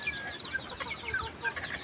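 Several desi chickens cluck and chatter softly in short, overlapping calls, fairly faint and without any voices.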